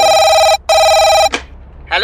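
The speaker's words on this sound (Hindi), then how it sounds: "मुझे फोन आया।" A telephone rings loudly and close, with two long electronic tones separated by a brief gap. Short bursts of speech follow.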